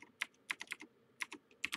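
A file name being typed on a computer keyboard, with quick uneven bursts of close, crisp key clicks separated by short pauses. No voices.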